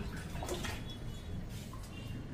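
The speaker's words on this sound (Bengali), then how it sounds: "জগ দিয়া জলটা দিই।" Water poured from a jug into a homemade sand filter, a steady close splashing and trickling stream that runs continuously for a couple of seconds with no talking.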